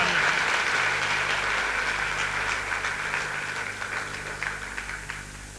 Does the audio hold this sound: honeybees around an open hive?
no